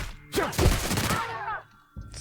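Rapid bursts of gunfire in a firefight with marauders in the video game The Outer Worlds, loud and dense, crackling for over a second before cutting off abruptly.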